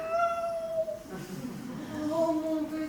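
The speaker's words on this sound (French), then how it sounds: "Oh, mon petit chat." A cat meows in two drawn-out, rising and falling calls, close by, with a faint voice present in the background.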